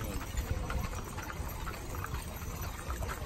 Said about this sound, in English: The mules, you can tell the difference the way they walk compared to a horse.